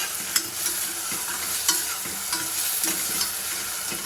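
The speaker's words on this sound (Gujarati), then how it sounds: "કાંદા ટમેટા બધું ચડવા મૂકી દીધું છે" Onions and tomatoes fry in a hot tempering, a continuous close sizzle broken by scraping stirs and clinks of a utensil at irregular intervals, with no talking.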